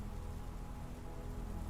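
Steady rain falls on a little village on Christmas Eve, a soft, even hiss of drops with no break and no voices.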